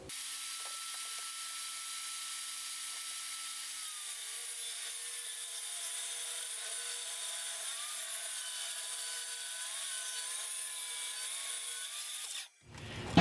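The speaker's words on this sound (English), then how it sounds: "I'm going to cut 2 strips down at 5 inches." A saw ripping wood strips for a dovetailed drill press cabinet, a continuous high whining cut with subtle pitch shifts, ending in a loud burst as the cut finishes, no voices.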